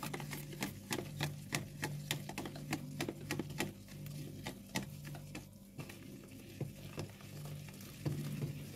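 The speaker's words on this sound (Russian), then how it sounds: "Размешиваю." Rapid, regular clicking taps of a utensil whisking pancake batter of flour in a bowl, steady and close, with no voices.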